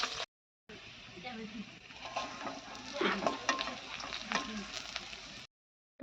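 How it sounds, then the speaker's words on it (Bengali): Round slices of bitter gourd fry in a pan, giving a moderate crackling sizzle with occasional stirring taps that starts and stops abruptly, while voices talk faintly underneath. "তো এই দেখো বন্ধুরা করলা ভাজা হচ্ছে"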